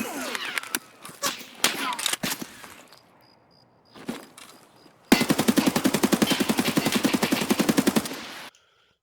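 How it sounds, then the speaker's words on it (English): Automatic rifle emptying a full magazine in Escape from Tarkov on the Customs map, a fast rhythmic burst of loud close gunshots lasting about three seconds, preceded by scattered shots, footsteps and game noises. "so there I mag dump again"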